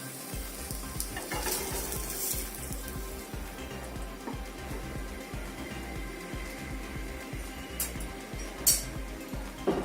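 Seer fish (vanjaram) fries steadily in a grill pan with a constant close sizzle and crackle, with occasional light clinks of a utensil against the pan.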